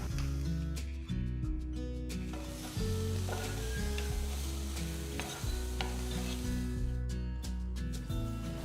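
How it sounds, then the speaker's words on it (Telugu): Chopped spring onion bulbs stir-fried in a pan for fried rice make a soft, steady sizzle with occasional stirring, largely buried under louder background music. "ఇందులో నేను తరిగిన ఉల్లికాడ గడ్డల్ని వేస్తున్నాను"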